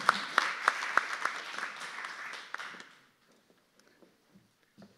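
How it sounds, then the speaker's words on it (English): Audience applause for a panel of speakers at a citizens advisory committee event, a few sharp claps opening into a full round of clapping that fades out after about three seconds, leaving near silence. "please give our panelists a round of applause for their great job"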